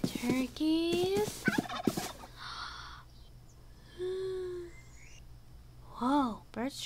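Turkeys gobble in the video game RLCraft, a few short warbling calls heard near and clear, mixed in with a person talking.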